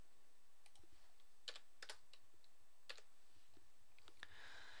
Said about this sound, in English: enter the verification code by typing in the letters or numbers you see in the picture